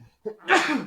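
A single close sneeze from a man, with a short sharp intake of breath followed by a louder, breathy burst that trails off.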